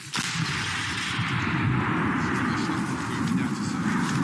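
A frontline artillery gun firing a single shot, a sharp blast at the start followed by a long rumbling roar and echo that fills the rest of the moment.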